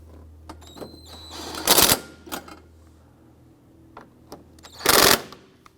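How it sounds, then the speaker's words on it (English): Bursts of ratchet clicking and an impact-style rattle while torque strut bolts are tightened on a 2004-2008 Acura TL, two loud bursts with quieter clicks between them, close to the microphone and without talk. "we're going to go ahead and tighten down all of our torque strut components"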